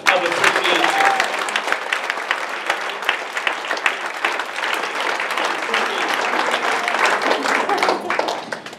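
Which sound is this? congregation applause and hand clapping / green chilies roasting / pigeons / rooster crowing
congregation applause and hand clapping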